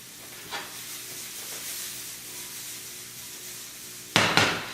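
Frittata ingredients cook in a pan with a faint, steady sizzle, broken near the end by two sharp clattering knocks of a utensil against the pan.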